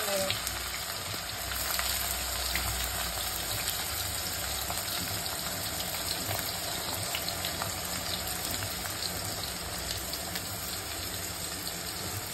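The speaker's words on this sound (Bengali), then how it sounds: "ফার্স্টে বেরেস্তাটা ভেজে নিচ্ছি।" Sliced onions sizzling in hot oil for birista to go into mutton korma, a steady continuous crackling fry with faint background speech.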